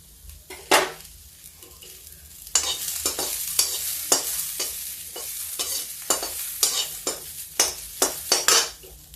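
Onion browning in a pan for vegetable khichdi, with a steady sizzle under a run of sharp, rhythmic scraping stirs from a utensil against the metal pan, close and fairly loud, with no speech.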